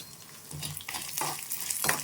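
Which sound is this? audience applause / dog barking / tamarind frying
tamarind frying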